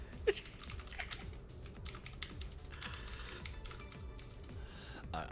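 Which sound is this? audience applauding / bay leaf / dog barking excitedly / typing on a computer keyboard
typing on a computer keyboard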